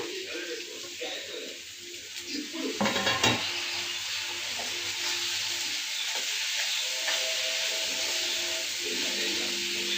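Tomatoes sizzle and fry in a pan while being stirred, a steady close hiss with a louder clatter of utensil against pan near the middle.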